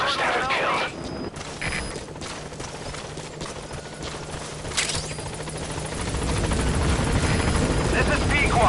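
Extraction helicopter arriving in Metal Gear Solid V, a continuous rotor rumble and mechanical thrum under dense game effects, growing louder and heavier over the last few seconds as it approaches.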